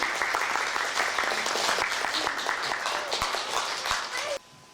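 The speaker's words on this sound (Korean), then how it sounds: "여러분 박수로 맞아주시겠습니까?" A crowd applauds steadily with dense clapping for about four seconds at a Korean-language speech contest, then it cuts off suddenly.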